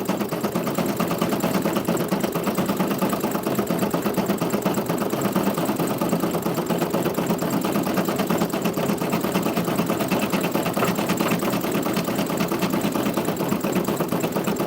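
A Brother PE800 embroidery and sewing machine runs continuously at an even pace, its rapid needle clatter and motor hum steady and close throughout, with no talking.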